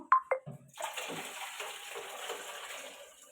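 Water pours steadily into a guppy fish tank being repaired, a continuous splashing gush lasting a few seconds after a couple of brief knocks, close and moderately loud with no talk.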